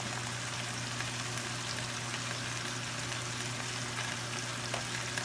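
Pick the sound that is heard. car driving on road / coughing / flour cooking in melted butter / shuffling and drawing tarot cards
flour cooking in melted butter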